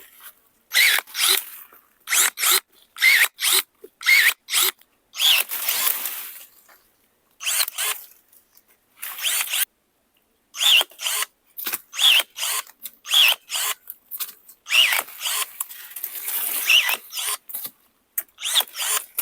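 ProCraft ES 32 Li cordless pruning shears snip through apple branches in a string of sharp, short mechanical bursts, some in quick runs and others separated by brief pauses, loud and close with no speech.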